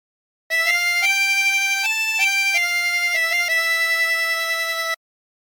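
A 16-hole tremolo harmonica plays a short, slow melody from a song in sustained, wavering reedy notes, loud and close, with no talking.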